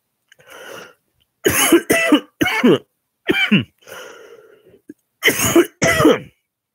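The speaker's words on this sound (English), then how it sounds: "Cough's getting me." A man on a livestream coughs in a run of sharp, close bursts, several hacking coughs in quick succession with short pauses between, loud and unaccompanied.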